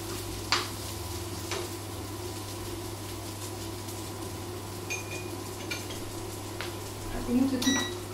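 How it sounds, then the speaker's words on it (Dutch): Soft, steady sizzle of egg-bound courgette fritters frying gently in a pan, with a few faint clicks and light scrapes over a constant low hum. "Je moet het zachtjes bakken, want dat eitje moet stollen"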